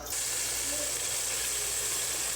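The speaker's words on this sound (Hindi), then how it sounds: "फ्लेम मैंने ऑन कर लिया, कढ़ाई मैंने रखी है, उसमें मैंने ऑयल डाल लिया है। अब मैं इसमें प्याज डालूँगी।" Onion dropped into hot oil in a kadhai over a lit flame, bursting into a loud, steady hiss of sizzling that starts abruptly and holds evenly, close up.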